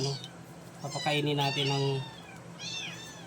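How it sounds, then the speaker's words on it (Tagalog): A rescued cat meowing while being fed gives a couple of drawn-out, rising and falling meows up close, followed by a shorter one, over faint background noise. "itong bago kong na-rescue na pusa"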